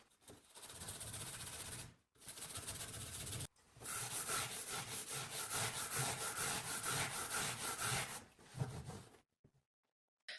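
A walnut dresser is sanded by hand with 180 grit sandpaper in close, loud, rasping back-and-forth strokes, grouped into several long bursts separated by short pauses, with no talking.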